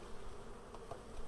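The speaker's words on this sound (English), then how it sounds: "There's lots of bees in the hive." Honey bees drone steadily around an open Flow Hive, a soft, continuous buzzing with nearby wingbeats passing in and out, faint and without any voices.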